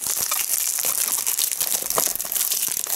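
Plastic wrapping crinkles and rustles steadily throughout while a perfume gift package is being opened, a dense close-up crackle with brief sharper crunches and no voice over it.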